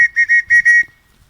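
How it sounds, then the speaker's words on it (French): A whistle blown loudly and close in four short, sharp blasts, the last slightly longer, then silence. "un sifflet"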